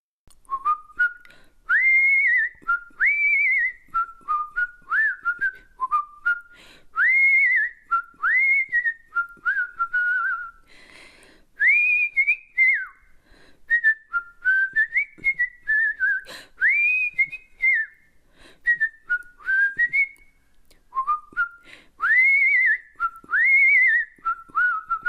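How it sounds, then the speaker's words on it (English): Someone whistles a bright, lilting tune up close, with short repeated rising-and-falling phrases and brief gaps between them, no talking. "I hope you were just as amazed with that whistling as I was"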